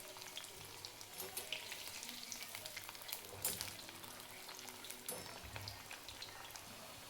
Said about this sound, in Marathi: दोन्ही साईडनी पण तळून घ्यायच्या.